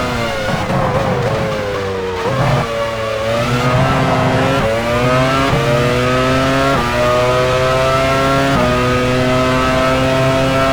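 A Formula 1 car in the F1 Challenge 99-02 racing game at Hockenheim, Germany 2000, rolls into the pit lane with a loud, steady engine whine that shifts pitch in stepped, revving bursts, running without pause and with no speech.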